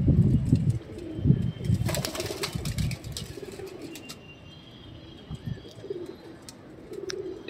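A pair of Rajasthani Lalsira pigeons coo in low, throaty bursts close by, a few repeated calls, with scattered clicks and rustling and a brief flutter in between.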